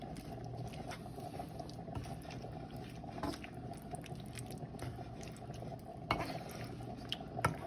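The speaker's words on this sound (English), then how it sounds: "you will figure out it's boiling" Pot of Italian dish boiling on a stove in a very hot kitchen, giving a steady low bubbling and simmering texture with occasional small pops and drips, fairly quiet and continuous without talk.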